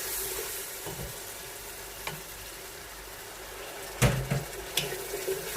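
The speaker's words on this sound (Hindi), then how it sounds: "थोड़ी सी इसकी भुनाई करेंगे।" Oil sizzles steadily in a pan with spices for aloo gobi frying, with a couple of sharper clinks and stirring scrapes near the end.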